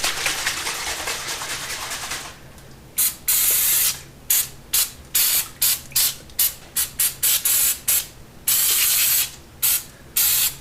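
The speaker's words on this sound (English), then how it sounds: "I have sprayed some paint remover on this stuff" Paint stripper sprayed from an aerosol can onto the triple tree of an MT250 motorcycle under restoration: a long continuous hiss, then a quick series of short, sharp spray bursts, close and loud, with no talking.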